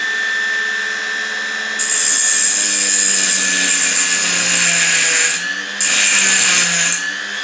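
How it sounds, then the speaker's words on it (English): A Dremel rotary tool with a grinding stone runs at a high whine, and its pitch rises sharply in two bursts of grinding as it flattens a small metal die-cast toy car axle. "I'm taking a Dremel and I'm the stone and just flattening these"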